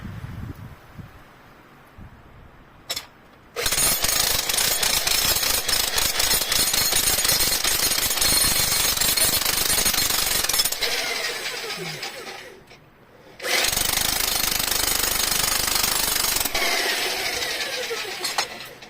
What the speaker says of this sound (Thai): ในการเจาะหินนะคะ นี่ค่ะ